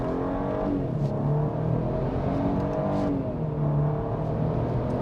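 A 2025 Nissan Armada SV accelerates on a multi-lane highway in manual shift mode starting in first gear, its engine droning steadily with rising and falling pitch under constant road and wind noise.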